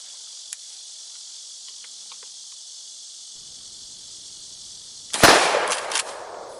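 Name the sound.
KelTec KSG 12-gauge shotgun shot with .68 choke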